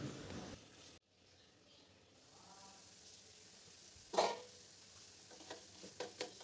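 Sliced cucumber fries in a covered pan on the stove, a low steady sizzle with a few sharp clinks and stirring scrapes of a utensil against the pan.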